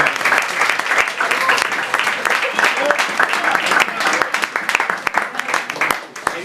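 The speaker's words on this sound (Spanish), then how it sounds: "vamos a pedir un aplauso para los que hicieron la comida" Dinner crowd at a political movement's October 17 celebration applauding the cooks, dense sustained clapping from many hands filling the room, loud and close, with some voices mixed in.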